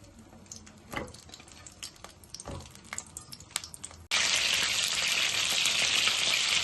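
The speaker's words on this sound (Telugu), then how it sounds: "ఇప్పుడు మనం కట్ చేసి పెట్టుకున్న వంకాయలు వేపుకుందాం" Brinjal pieces for stuffed brinjal curry dropped into hot oil burst into a loud, steady sizzle after a few seconds of quieter clinks and crackles, close by and with no talking.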